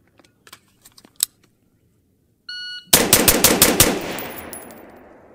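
Six rapid pistol shots fired in a speed drill with an Airborne Arms Geronimo trigger, a tight loud burst after a beep and some faint handling clicks, echoing briefly outdoors.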